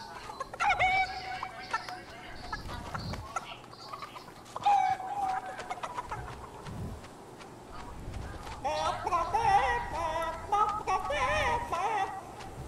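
A chicken in the video game Fortnite clucks and squawks in bursts across the span, mixed with other game sounds and thumps, fairly loud and close.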